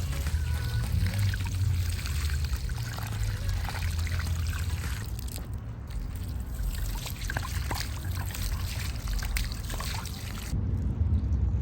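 Water poured onto plants at a plant nursery trickles steadily, splashing continuously at close range for several seconds with no talking.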